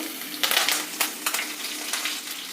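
Mustard seeds, garlic, ginger and curry leaves crackling in hot oil for festive pongal, a steady close sizzle broken by sharp pops and bursts, with no one talking.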